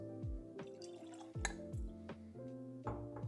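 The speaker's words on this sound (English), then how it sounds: "We're going to be adding a few drops of water in there, see what changes up." A few drops of water fall into a glass of dark chocolate rum, a series of small close, resonant plinks and drips at a slow uneven pace, quiet and alone.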